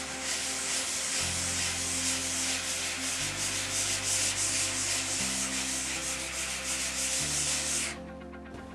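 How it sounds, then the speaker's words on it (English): Steady abrasive rubbing of sanding over dried spackle on a drywall repair, loud and continuous for about eight seconds with a low droning hum underneath, ending abruptly as the sanding stops. "I'm taking it off fairly lightly so that I can see the layers disappear as I continue to sand"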